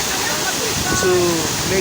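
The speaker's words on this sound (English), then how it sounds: "the CHENKU Waterfall is one of them" The Chenku Waterfall in Dodowa, Ghana, rushes as a steady, loud, close roar of falling water, with a voice speaking briefly over it.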